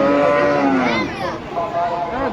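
A large cow, billed as the biggest in Isapura, lets out a long, loud, close moo at a cattle market held on a school playground, the low drawn-out call wavering and rising midway.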